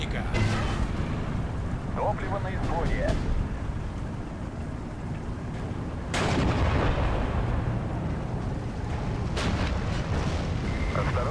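Tank battle in Steel Division 2 multiplayer, with repeated booming artillery-like explosions and bursts of gunfire layered over a constant rumbling din, loud and dense throughout, with sharper blasts standing out near the middle.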